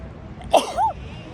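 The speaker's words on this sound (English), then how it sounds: "sorry, I'm gonna sneeze." A single short, sharp sneeze bursts out, followed by a brief voiced exhale, in an otherwise quiet room.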